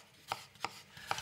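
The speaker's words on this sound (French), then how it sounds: "Je vais m'occuper de l'ail. Je vais pouvoir le couper." Knife chopping garlic on a cutting board for patatas bravas with chorizo: three evenly spaced, crisp taps close up, alone against faint kitchen background.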